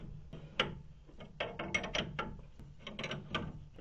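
Spring compressor being loosened on the shock absorbers of an old Renault, giving a series of faint ratcheting mechanical clicks and metallic turns in uneven bursts, close by with no talk.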